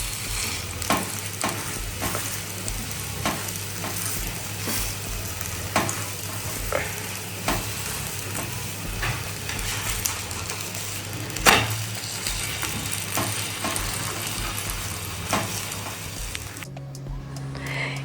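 Food fries and sizzles in a pan over a low gas flame, a continuous close crackle broken by occasional stirring scrapes and pops, with no talking.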